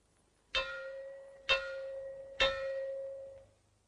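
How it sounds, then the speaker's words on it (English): Three ringing gong strikes sounded as a fallout warning, about a second apart, each with a sharp metallic attack and a long, humming sustain that carries into the next. "Or you may hear 3 gongs like this."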